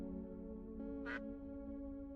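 A game bird in the space adventure Star Birds lets out a single short squawk, rising out of a steady droning musical backdrop with no talking.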